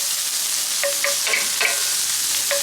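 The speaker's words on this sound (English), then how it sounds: "So we're going to let those saute a little bit before we add the pork" Onions sauté in a pan on medium heat ahead of the pork going in, giving a soft steady sizzle with a few light scrapes of a spoon or spatula stirring them.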